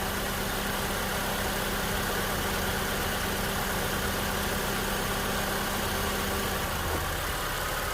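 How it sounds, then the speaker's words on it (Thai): A 2003 Honda CR-V 2.0 i-VTEC 4WD idles steadily, a smooth, even engine hum that holds nearly unchanged for the whole stretch with no voices. "เครื่องยนต์เดินเบาเพราะสนอหูมากครับ ไม่ได้ยินเสียงวาวเลยนะครับ"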